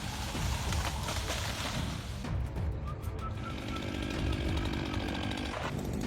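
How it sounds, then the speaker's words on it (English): A Husqvarna 371XP chainsaw cuts into a massive redwood, its engine roaring loud and close without letup, pitch shifting slightly as the chain bites through the wood. "Your trusty Husqvarna 371XP slices through it with ease."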